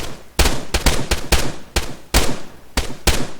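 Rapid bursts of gunfire during tactical training, sharp loud cracks arriving in irregular clusters of single and double shots, close and dominant with no talk over them.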